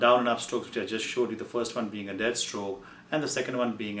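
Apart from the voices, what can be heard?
No everyday noises stand out.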